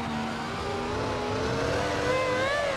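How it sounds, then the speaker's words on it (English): A V10 engine fitted into a Dacia Logan, engine braking in second gear: a sustained droning exhaust note with a rising and falling pitch, loud and close, with no voices. "mostly where the braking is coming from is the engine braking, because the V10 is, I think it's actually pretty famous for the engine braking"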